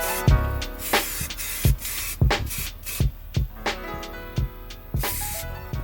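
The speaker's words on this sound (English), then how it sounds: "I ended up actually spraying pretty much the whole door to touch it up" Spray paint hissing onto a Toyota Supra door panel during a touch-up, in a series of loud, close bursts of roughly half a second each with brief gaps between them.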